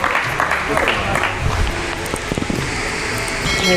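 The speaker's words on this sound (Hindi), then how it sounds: "आप सबकी भरपूर तालियों में" A short burst of audience clapping at a poetry gathering, many hands at once, dense and moderately loud, fading toward the end.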